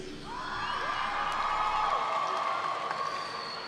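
A commencement audience at NJCU claps and cheers in a steady mid-level wash of applause with scattered whoops and shouts, holding at an even level throughout.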